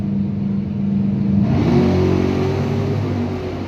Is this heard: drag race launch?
yes